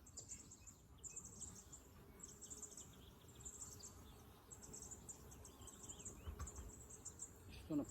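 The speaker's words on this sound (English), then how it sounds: "It's loaded with bees." Honey bees buzz steadily inside an opened, frame-loaded beehive during a spring honey check, a dense close hum with small swells and dips throughout, with faint birds in the background.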